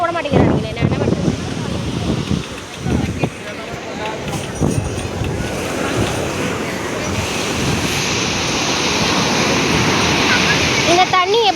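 Ocean surf rolls onto a beach with small waves, a continuous loud wash of breaking water and wind rumble against the microphone, with a voice briefly heard early on.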